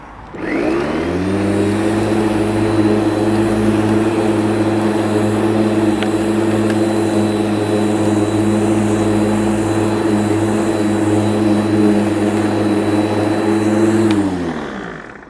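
A LawnMaster 1600W 37cm electric lawn mower with its mulching plug fitted, set to its lowest 20mm cut, runs loud and close with a steady motor whine and blade hum, starting up and winding down at the end.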